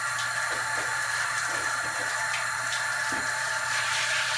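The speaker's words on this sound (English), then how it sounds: "Rinse out my biomedia real quick, just gently" Running water steadily pours and splashes as aquarium biomedia (Eheim Substrate Pro) is gently rinsed during a saltwater tank water change, a constant close wash with no talking.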